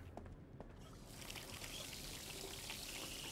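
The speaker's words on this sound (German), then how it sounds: "Wasserhahn aufdrehen." Water running from a faucet in the video game The Darkness 2, a faint, steady pouring rush that swells slightly after the first second and continues evenly.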